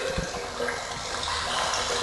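Dirty storm water pours and drips steadily after a storm, a continuous dense splashing rush close by with no talk.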